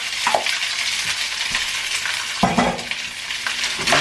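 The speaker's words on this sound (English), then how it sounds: "We're going to break up the rice." Leftover rice stir-fried in a non-stick wok: a steady, loud frying sizzle with scraping stir strokes and a few sharp utensil knocks as the clumps are broken up.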